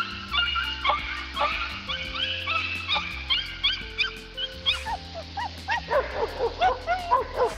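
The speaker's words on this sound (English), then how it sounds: "The dogs are barking." Dogs bark and yip repeatedly outdoors after a coyote encounter, with excited, overlapping barks that grow quicker toward the end over a droning background.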